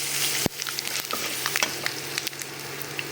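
Mustard seeds, chana dal and dried chillies fry in hot oil in a pan for a spicy kara kozhukattai tempering, giving a steady close sizzle with small scattered pops and crackles throughout, with no voices.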